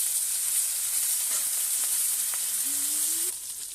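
Turned parshe fish sizzling in hot oil in a wok, a dense, continuous bright frying hiss with a few faint stirring clicks and a rising whine, easing off slightly at the end.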